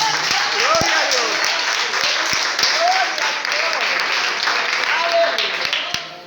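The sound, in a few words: church congregation applause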